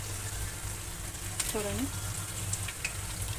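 Jalebi fries in oil over a low flame, a soft continuous sizzle and bubbling heard quietly while a person speaks briefly partway through.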